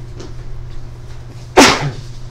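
One sharp, loud sneeze bursts out in a quiet lecture room during a math class, standing out against a low steady hum.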